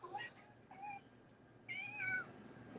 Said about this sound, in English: Hold on, it's crazy ass cat.